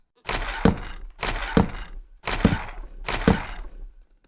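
Creaking heart block placed repeatedly in Minecraft, four heavy woody thunks with a brief crunchy tail, evenly spaced about a second apart, loud and close with no voices.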